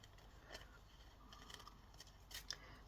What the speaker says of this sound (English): So let me make a fold there, and I'm just going to cut through this.